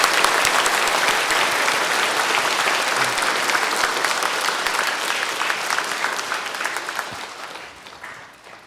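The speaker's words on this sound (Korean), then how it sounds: "우리 모두 큰 박수로 축하해 주시기" A church congregation applauds at a new priest's first Mass at Jungsan Catholic Church in the Uijeongbu diocese: dense, sustained clapping that fills the hall and then thins and fades toward the end.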